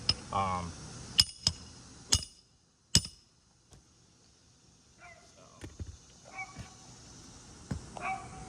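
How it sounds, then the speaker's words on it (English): Several sharp metallic hammer strikes on a roofing snake tool ring out at irregular intervals, with quieter taps and light knocking between them, close by and fairly loud. "use hammer right on the tool"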